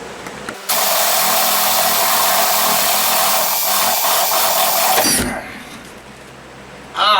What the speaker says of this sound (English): mark out where I need to drill a hole in this board, drill it obviously